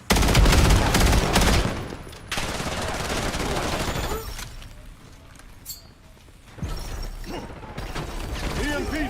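Heavy gunfire in the Syndicate video game: dense, loud automatic bursts crowd the opening seconds, ease into a quieter stretch of scattered shots mid-way, then return with renewed rapid firing near the end.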